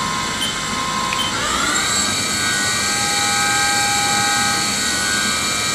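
Haas VF5 vertical machining center with a 10,000 RPM spindle running at 3000 RPM, a steady, loud high-pitched whine that steps up in pitch early on and then holds over a constant mechanical hum, with no talking.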